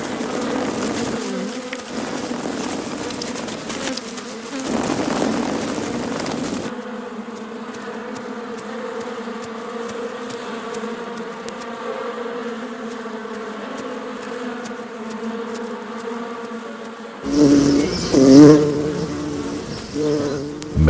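Honey bees buzz in a steady, close, droning hum that carries on without a break, with a louder burst of wingbeats near the end.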